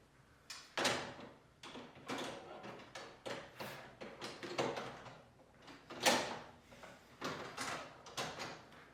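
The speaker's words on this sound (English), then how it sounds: "Give it a test to make sure it slides in and out smoothly." A Bosch dishwasher cutlery drawer being pushed in and pulled out on its rails: repeated rolling, rattling slides with clunks at each end of travel, close and fairly even in rhythm, with no talking.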